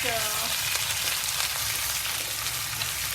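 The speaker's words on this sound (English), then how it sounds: "now we're going to add the ginger garlic paste" Ginger garlic paste fries in plenty of hot oil for karahi aloo, a dense, even sizzle that holds steady throughout without pause, close and fairly quiet.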